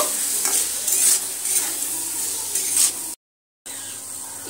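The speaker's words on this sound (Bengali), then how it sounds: "এবার আমি মটরের মধ্যে স্বাদ অনুযায়ী নুন দিচ্ছি, দিয়ে আবারও নেড়ে চেড়ে মটরটা আমি এখানে একটু ভেজে নেব।" Green peas stirred and fried with salt in a pan for an aloo dum, a steady close sizzle with repeated scraping stirs, broken by a short silent gap near the end before the frying resumes.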